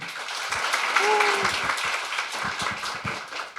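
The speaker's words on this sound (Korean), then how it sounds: "큰 박수로 맞이해주세요" Conference attendees at the LCOY Korea 2025 youth climate event clap to welcome a speaker to the stage, a brisk, moderately loud applause with a brief voice or tone rising over it near the start.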